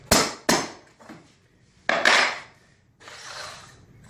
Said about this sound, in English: get your pull bar, foot over the space. Give it a few taps.